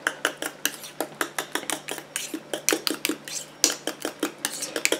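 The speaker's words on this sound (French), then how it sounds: "Je mélange." Utensil scraping and clinking against a bowl while foot cream is mixed by hand, a steady rhythm of about three close, sharp strokes per second with no voices.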